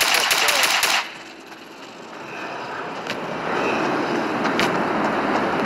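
Rapid automatic gunfire in the video game Fortnite rattles loudly at first, then gives way to a steady engine-like drone with occasional sharp shots, no talk over it.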